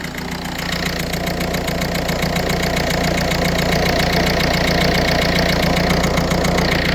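A Ford Fiesta engine idles close up with a chuffing injector, giving a loud, steady mechanical drone with a fast, regular ticking pulse running throughout.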